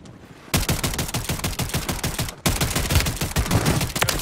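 Shotgun fire in Call of Duty Warzone (Modern Warfare III) is heard as dense, loud volleys of rapid gunshots, which start after a half-second pause, break briefly near the middle and then resume, with no talk.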